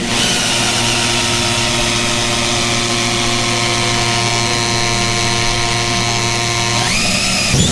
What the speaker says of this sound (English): We're just essentially going to drill right through this